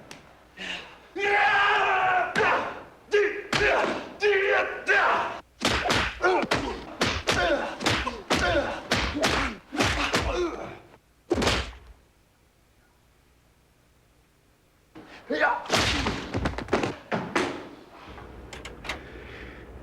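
A movie fight scene plays with added punch sound effects: loud, dense thumps and hits in rapid succession, a quiet gap, then another burst of impacts, with voices and shouts mixed in.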